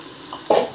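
Masala frying in ghee in a pan gives a short burst of stirring and sizzling that jumps up sharply midway, with a steady background hiss underneath.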